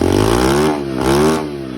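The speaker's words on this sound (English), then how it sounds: "So, but once I rev it up," A pit bike engine with rich carburetor jetting revs up hard twice, its rising and falling harmonic whine loud and close with a brief dip between the two pulls and no talking.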